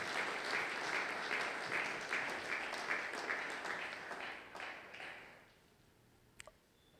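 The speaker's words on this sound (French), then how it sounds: "Est-ce que tu peux acclamer très fort?" Church congregation applauding at a Sunday worship service, steady dense clapping that fills the room for about five seconds before fading out, followed by a couple of faint clicks in near silence.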